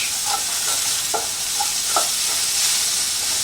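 Cumin, carrots and onions fry in a pan with a loud, steady close sizzle, broken by a few soft scraping stirs.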